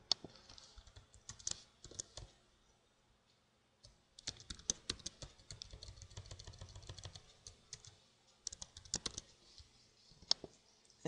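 Code is typed on a computer keyboard in quick, uneven bursts of close, crisp key clicks, with a short pause partway through and quiet gaps between runs.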